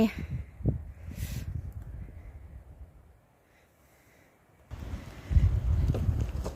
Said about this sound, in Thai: ลมแรงลมพัด